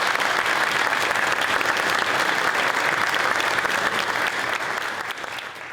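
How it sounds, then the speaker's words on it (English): A large crowd applauds police service award honorees at a town awards ceremony. The clapping is loud and dense, sustained with no breaks, and it begins to fade slightly just before the end. "How about a round of applause for all our honorees this evening?"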